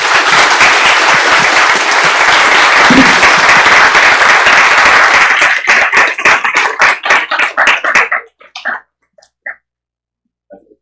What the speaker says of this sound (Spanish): Un aplauso, Helios.